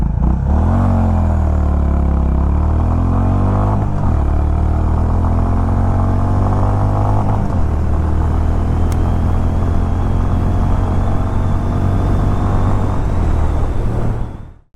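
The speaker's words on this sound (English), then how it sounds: "it's time for a quick acceleration test on the CB350 H'ness" A Honda CB350 H'ness motorcycle accelerates hard through several gears, its loud rumbling engine climbing in pitch and dropping at each shift before cutting off near the end.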